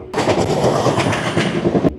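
Samaleswari Express passenger train from Howrah to Jagdalpur running with a loud, steady rolling rumble and rattling wheels, close and continuous for the whole stretch, with no speech.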